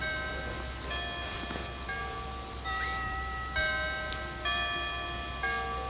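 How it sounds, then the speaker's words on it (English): Grandfather clock chime from a video game's end-of-night signal, a series of ringing bell tones struck one after another in a melodic sequence, each note sustaining and overlapping, clear and prominent with no talking. "A grandfather clock, chiming the same song every time."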